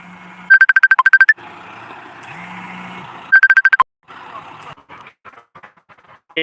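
A phone ringtone for an incoming call chimes in two short bursts of rapid repeating electronic tones, with steady background hum and scattered clicks between them.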